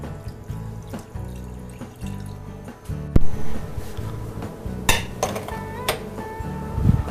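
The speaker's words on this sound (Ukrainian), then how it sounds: "заливаємо на дно сотейника вино." Wine pours and splashes into a hot sauté pan amid clinking cookware, with a brief sharp knock partway through.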